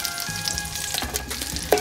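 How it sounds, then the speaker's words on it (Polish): Shallots and potato pancakes sizzle steadily in a frying pan, a close, continuous crackling hiss with a few sharper pops and stirring scrapes. "szaloteczki tutaj pięknie skwierczą"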